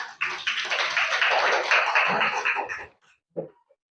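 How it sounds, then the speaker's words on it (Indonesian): A classroom of students claps for a group after its presentation, a dense burst of hand claps lasting about three seconds before stopping, with a couple of stray claps after. "tepuk tangan dulu buat kelompok 1"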